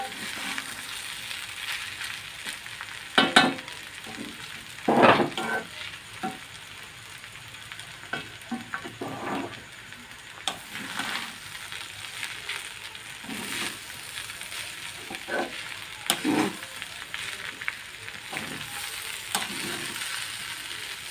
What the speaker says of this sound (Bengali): চিড়েটা দিয়ে আমি ভালো করে নাড়িয়ে নেব।